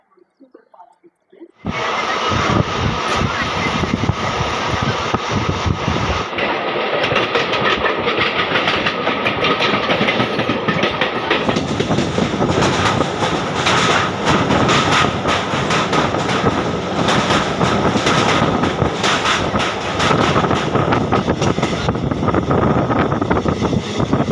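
A passenger train near Bandel station in West Bengal runs loudly and steadily from inside the carriage, a constant roar of wheels and rattling with dense broadband clatter after a quiet start, no voices heard.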